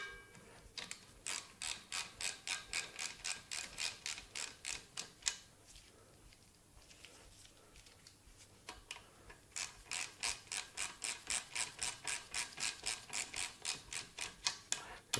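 A ratchet rapidly clicks as a fork fastener on a Honda Africa Twin RD04 is tightened during a fork service, in two close, brisk runs of even ticks separated by a short pause.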